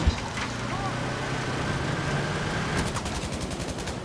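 Battlefield V gunfire, a continuous machine-gun rattle that grows sharper and more distinct toward the end, loud over background battle noise, with a voice speaking over it.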